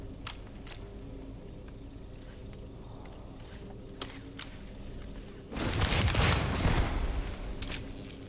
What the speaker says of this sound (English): Ooh, that's a good shotgun.